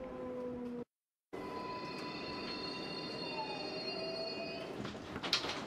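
A New York City subway 4 train rolls along the IRT line in the Bronx, heard from on board with a steady loud rumble, metallic wheel squeal and high tonal whine, a brief dropout, then rattling near the end.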